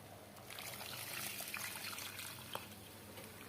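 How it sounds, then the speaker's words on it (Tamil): Coconut milk pours into wheat rava vegetable porridge in a soft, faint, continuous trickle, with one small clink near the end. "இப்போ இந்த எடுத்து வச்ச தேங்காய் பாலையும் இதில் ஒன்றா ஊற்றிடலாம்"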